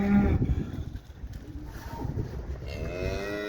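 Cattle moo loudly and repeatedly as they are brought in for the winter, with overlapping calls from several nearby cows in a noisy barn.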